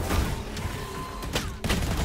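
Rapid gunfire bursts in Valorant, a tactical shooter, crackle loud and close, with sharp shot transients at about 1.3 s and 1.6 s cutting through a dense, continuous mix of game sound.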